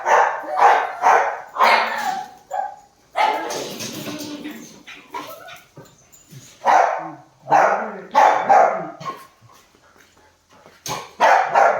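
Loud, close dog barks come in clusters separated by short pauses, mixed with yips and whimpering, a person's voice briefly audible between the bursts, as a dog is shown being given away.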